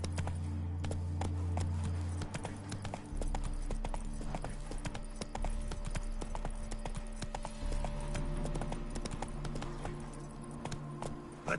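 Roach, the horse in The Witcher 3, gallops with a steady, rapid clip-clop of hooves that runs loud and close throughout, set over a low rumbling game backdrop.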